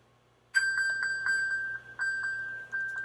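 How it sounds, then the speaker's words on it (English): iPhone pinging after being paged from an Apple Watch Series 3: a series of bright, steady electronic chime tones repeating in short bursts, close and clear against a quiet room, with no talking. "You can hear it pinging my phone."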